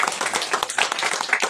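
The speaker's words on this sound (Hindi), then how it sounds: "आइए ताली बजा दीजिए इस चीज के लिए।" A crowd clapping at a religious gathering, dense and continuous applause close by for a short burst, with no talking.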